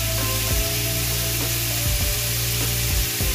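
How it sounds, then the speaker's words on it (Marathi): Lemon juice hits a hot pan of butter and garlic, giving a steady loud sizzle with rhythmic scraping and stirring strokes every second or so. "आता आपण टाकतोय लिंबू"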